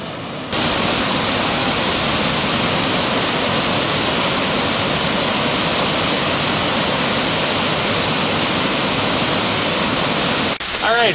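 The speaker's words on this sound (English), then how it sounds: "Blackwater Falls, West Virginia." Blackwater Falls in West Virginia roars as a steady, loud broadband rush of falling water, constant and unbroken for about ten seconds before a brief shift at the end.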